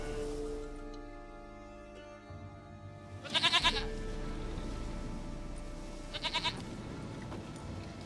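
Goat bleating in The Witcher 3, two short bursts of rapid, quavering bleats standing out over a steady game ambience with low background music.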